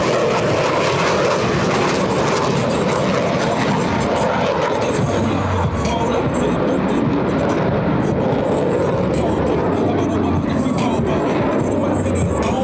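US Navy Blue Angels jet aircraft crossing over show center at an airshow, a loud, sustained broadband jet engine roar that swells and rumbles continuously, with faint crowd noise beneath.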